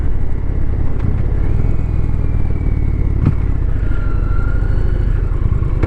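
A motorcycle cruises along on the road, its engine loud and close in a steady rumbling drone with a couple of brief knocks, and no talking.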